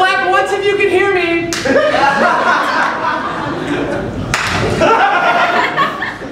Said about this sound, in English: Clap once if you can hear me.